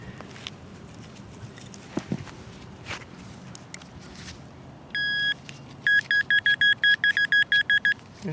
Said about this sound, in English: ringing in solid with the pinpointer